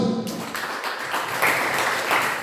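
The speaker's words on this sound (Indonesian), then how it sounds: "Ya, beri aplaus." An audience applauds at a school orientation session at SMK Negeri 1 Amurang, a dense, steady wash of many hands clapping throughout, fairly loud and close, with no talk over it.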